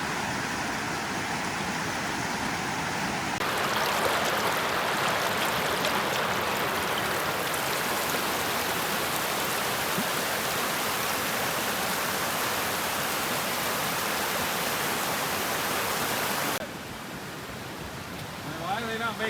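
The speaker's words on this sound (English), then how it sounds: "Look at this beautiful river, though. It's just roaring there." A river in the Goldstream area roaring with a loud, continuous rushing of water, swelling to fill everything, then dropping off abruptly near the end.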